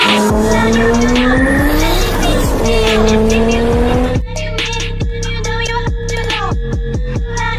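Toyota Supra in the mobile racing game Car Driving Online, its engine revving loud and steady with rising and falling gear tones, then tires squealing and skidding through repeated sharp bursts.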